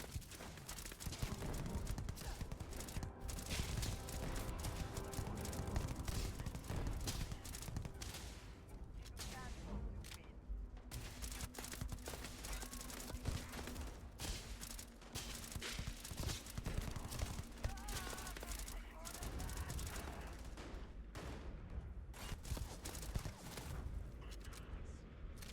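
Rapid gunfire in Starfield crackles almost continuously through a noisy firefight, as dense bursts of sharp shots over a constant rumbling background.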